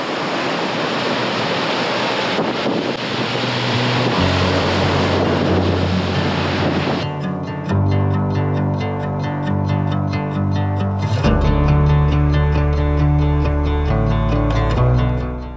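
A Yosemite waterfall roars as a steady broadband rush of spray and gusting wind, loud and close, with buffeting wind noise on the microphone and a continuous tonal drone underneath.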